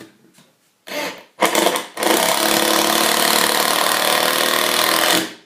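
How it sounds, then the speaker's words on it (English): A cordless Craftsman Li-Ion impact driver drives a screw, starting with a couple of short spins, then switching into a loud, steady rapid hammering rattle for about three seconds, close up. "apparently it just turns into hammer mode."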